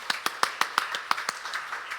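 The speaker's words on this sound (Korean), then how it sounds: "우리 박수 한번 할까요?" A church congregation claps, a handful of sharp, fairly quiet claps in loose rhythm over about two seconds, fading toward the end.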